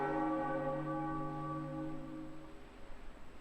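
A bell rings out from the top of a tower in The Legend of Zelda: The Wind Waker, one struck tone with rich overtones that hangs and slowly fades, heard alone.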